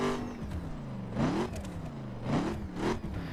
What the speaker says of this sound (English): So let's give it a rev.